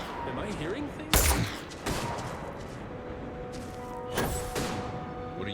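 Gunfire in the sci-fi video game Starfield, a few loud sharp bursts of shots spaced a few seconds apart over a steady electronic game background.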